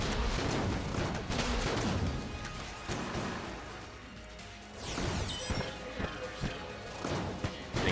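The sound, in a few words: double explosions from guns in video game Enter the Gungeon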